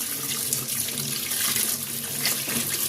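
Running tap water splashes steadily while an eggplant is rinsed under the faucet, a close, continuous hiss and patter with small shifts as the hands move through the stream.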